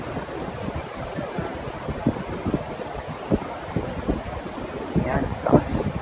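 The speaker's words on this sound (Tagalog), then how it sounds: "Ayun o, lakas ng hangin." Strong wind buffets the microphone outdoors where homing pigeons are being flown, a steady roaring rush with repeated gusty thumps and faint chirps near the end.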